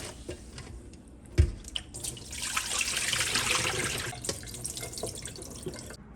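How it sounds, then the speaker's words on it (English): Stew beef being rinsed under a running kitchen tap, steady splashing water with a sharp knock near the start and intermittent clatters, close and moderately loud throughout. "And to rinse one more time."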